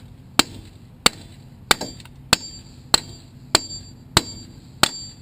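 Eight sharp metallic hammer blows strike a car axle at a steady, unhurried pace, each a loud close clang with a short ringing tail.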